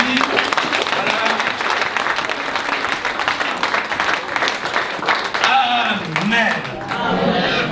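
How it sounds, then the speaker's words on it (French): Audience in a church breaks into applause and cheering, a loud, steady wash of clapping with crowd voices and speech mixed in throughout. "Alors, acclamons pour les amis qui sont venus aujourd'hui."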